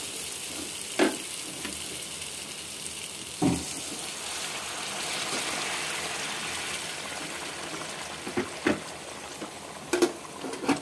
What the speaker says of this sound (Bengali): এবার আমি পরিমাণ মতো জল দিয়ে দেব।